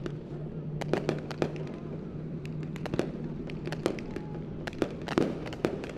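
Fireworks burst over a speedway after the feature races: a rapid run of sharp cracks and pops, some in quick clusters, over a steady low rumble of crowd and ambient noise.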